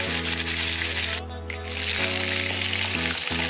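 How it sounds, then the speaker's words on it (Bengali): Chicken pieces fry in hot oil with a steady, broad sizzle that fills the whole stretch, briefly dipping and then resuming near the microphone, with low steady hum beneath. "দুনো সাইড ভালো করে ভেজে নিয়েছি"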